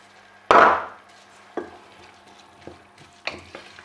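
Tomatoes drop into a pan of sauce with white wine for a Nantua sauce, giving a sharp wet splat and a short burst of sizzling, then a few softer stirring clatters and scrapes, close and with no talking.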